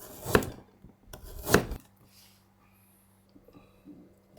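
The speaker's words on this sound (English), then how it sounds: "Cut scallions into small sections." Two close, scraping knife strokes against a cutting board while cutting scallions, followed by quiet with a few faint taps.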